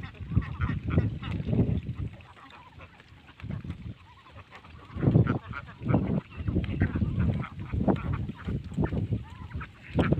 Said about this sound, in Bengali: হাঁসগুলো কিন্তু অনেক ভালো